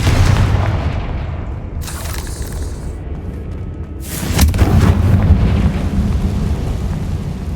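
The Confringo fire spell explodes in the Hogwarts Legacy video game, heard as deep, rumbling booms over a continuous low roar, with a sharp blast near the middle.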